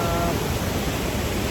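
The Rupse waterfall in Nepal roars as a broad, unbroken wash of rushing water, loud and close, with no pauses across a short stretch.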